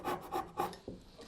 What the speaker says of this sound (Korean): 그래서 다시 사선으로 돌아가서 살짝 톱질을 해주고요.